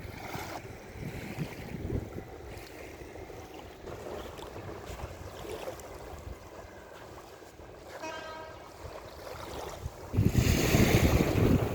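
Rushing sea surf rolls continuously onto a beach, swelling into a louder crashing wave near the end; a brief tonal whine briefly cuts through the middle.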